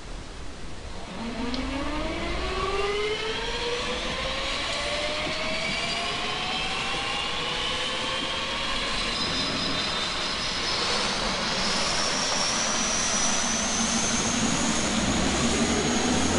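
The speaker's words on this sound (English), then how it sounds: "And start the engines." Aircraft engines start up on a flight bound for Lukla in the Himalaya, turbines spooling with rising whines that climb steadily in pitch over a constant loud roar, no talking.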